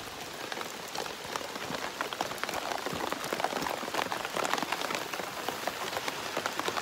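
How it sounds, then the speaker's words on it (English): Heavy rain pours steadily outside a yurt, a dense, continuous hiss of drops drumming on surfaces with scattered louder splats, close and unbroken throughout with no voices. "So much rain. I don't know if the camera even picks it up. It's just so rainy."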